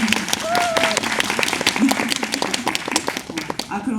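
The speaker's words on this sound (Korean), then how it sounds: "박수." An audience claps at a Korean film screening Q&A for the movie Virus, with crisp, scattered handclaps mixed under laughter and talking voices.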